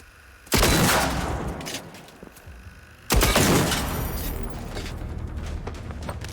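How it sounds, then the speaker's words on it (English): Loud gunfire from the video game Generation Zero comes as two heavy bursts, each a sharp blast followed by a rattling, decaying tail, with quieter background noise in between. "I've been muting because this gun is so loud."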